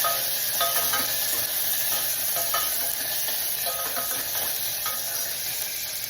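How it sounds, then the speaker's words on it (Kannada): Onions frying in a hot pan for radish and sago sambar, a steady loud sizzle with repeated scraping strokes of a spoon stirring, no talking. "ಫ್ರೈ ಮಾಡ್ತಾ ಇದ್ದೀನಿ"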